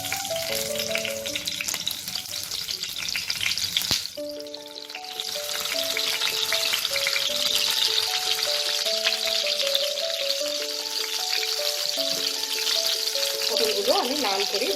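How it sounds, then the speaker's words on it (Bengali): Pointed gourds (potol), peeled and slit, frying in oil until reddened on both sides, a continuous close sizzle under background music, with a brief dip around four seconds. "পটলগুলো আমি লাল করে দুপাশে ভেজে নেব।"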